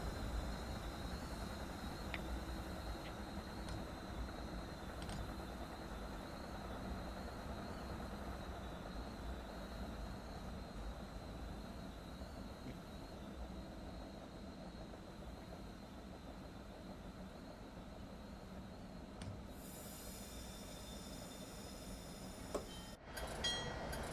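An MBTA commuter rail train on the Providence/Stoughton line rolls into the Route 128 station, heard from the cab as a continuous low engine rumble with steady rail noise and faint squeals near the end.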